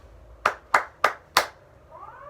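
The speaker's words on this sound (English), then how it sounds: "it would sound like this if I was clapping" Hands clap four sharp, evenly spaced times in a ti-ti rhythm, each clap crisp and close in a quiet room, followed by a faint trailing tone.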